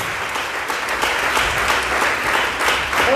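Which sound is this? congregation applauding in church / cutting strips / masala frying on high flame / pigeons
congregation applauding in church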